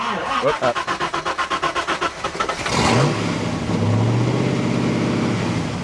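Ford Cobra race car engine cranking with a rapid rhythmic starter chatter, then catching and roaring into a loud, sustained rev and rumbling idle, close and powerful.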